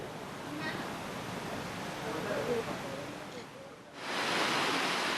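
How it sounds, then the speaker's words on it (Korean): Broadband rushing water roars steadily from a waterfall in an Alpine gorge near the Jungfrau in Switzerland, fairly faint at first and then swelling suddenly louder and closer. "물소리만으로도 폭포의 거대함을 짐작할 수 있습니다."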